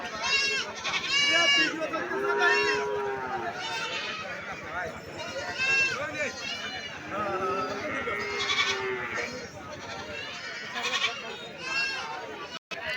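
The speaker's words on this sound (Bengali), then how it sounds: "প্রচুর গরু এবং ছাগল ওঠে সোনাপুর পশু হাটে।" Goats and cattle at a busy livestock market before Eid al-Adha, with repeated loud bleats rising and falling over crowd noise and people talking throughout.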